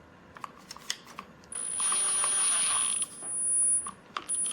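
A part of a Ryobi pole saw is hand-tightened, giving a faint, steady scraping whir that lasts a couple of seconds, set between a few soft clicks and handling knocks.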